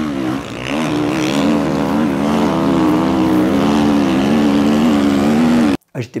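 Enduro motorcycle racing fast along a beach at the Enduropale 2023, a loud, close, continuous engine drone whose pitch wavers as it rides at about 140 km/h, cutting off abruptly near the end.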